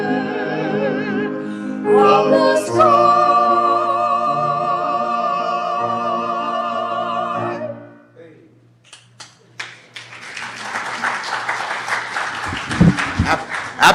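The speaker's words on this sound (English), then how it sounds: "we could applaud for our great musicians" A congregation at a Rosh Hashanah morning service applauds its musicians. Sustained, fairly loud clapping from many hands rises after a sung passage with instruments fades out.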